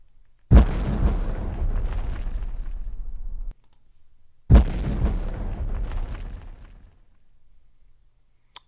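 Two grenade explosion effects in a Unity game, each a sudden heavy boom that rumbles and fades over about three seconds, separated by a short pause and heard alone.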